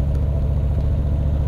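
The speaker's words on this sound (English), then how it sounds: "I don't even know the name of the slip-on exhaust, but it growls really nice." A Harley-Davidson Low Rider S motorcycle with a slip-on exhaust idles close by in a steady, low, throbbing rumble with an even pulse throughout and no talking.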